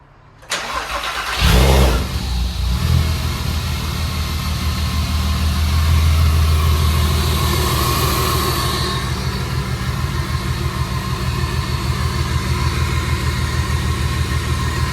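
A supercharged Audi TT 3.2 V6 with DSG gearbox cranks and fires up, followed by a loud burst of revving that settles into a steady, rumbling idle with occasional blips, close by with no talking.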